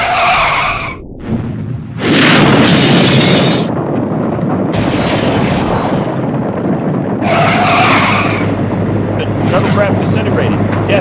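A shuttlecraft is destroyed in a comedy sketch: a loud roaring, skidding crash effect with a booming rumble, broken by bursts of hiss, under voices speaking.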